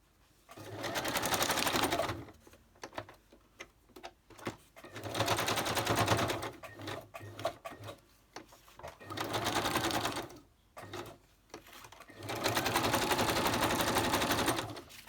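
A sewing machine zigzag-stitches around a napkin collage paper page in about four steady, close bursts of rapid needle chatter, with short quiet pauses between them.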